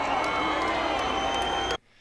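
A crowd at the Gathering of the Juggalos roars and cheers in a dense, loud wash after a final set, with shouting voices mixed in, then cuts off abruptly.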